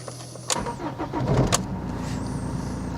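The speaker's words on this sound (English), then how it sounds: "turn the engine off and see if it fires straight up" A car engine cranks briefly, catches, then settles into a close, steady idle, with a sharp click at the start of the crank and another just after.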